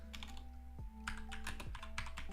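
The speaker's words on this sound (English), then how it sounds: "So let's just type" Quick irregular keystrokes on a computer keyboard during software testing work, close and clear over a steady hum, with no talking.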